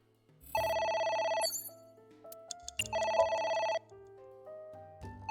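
A telephone rings in the video game AI: The Somnium Files, with two bright electronic bursts of trilling bell tones separated by a pause, clear and close, with soft background music between them.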